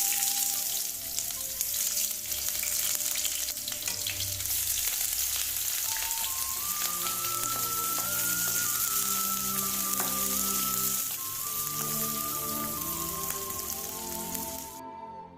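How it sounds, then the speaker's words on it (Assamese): Chopped onions with green chillies fry in hot oil in a wok over a low flame, a steady close sizzle that runs throughout with light stirring and no talk, faint music underneath. "পিয়াজখিনি কোমল হোৱালৈকে লো ফ্লেমত লৰাই ভাজি থাকিম"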